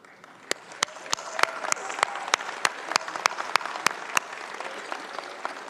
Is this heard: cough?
no